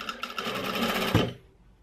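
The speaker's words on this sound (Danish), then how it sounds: "så jeg syr en stikkestingskant" A household sewing machine runs a steady straight stitch along a fabric edge, a close, continuous rapid whirring that stops abruptly near the end and leaves near-silence.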